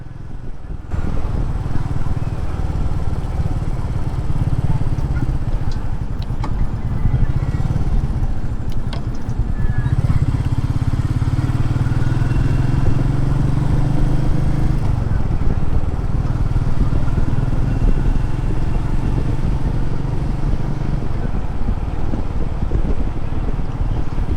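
Motorcycle riding: a steady, loud engine drone with heavy wind rush buffeting the microphone throughout, with no talking.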